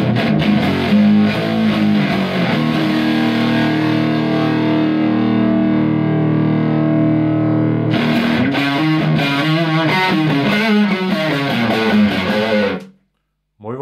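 An electric guitar through a Boss MD-2 Mega Distortion pedal plays heavily distorted chords, first a long sustained ringing chord, then choppy rhythmic strumming, loud and close, cutting off abruptly near the end.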